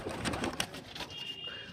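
Pet pigeons inside their home coop coo in a low, throaty burble, with a few quick bursts of wing and cage noise early on. The sound is close and steady, and no voices are heard.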